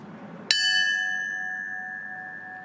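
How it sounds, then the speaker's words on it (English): A single struck memorial bell rings at the Pentagon during a 9/11 anniversary ceremony, with a sharp attack followed by a long, slowly fading ring over faint background noise. "This is at the Pentagon here, the ringing of the bell at this time."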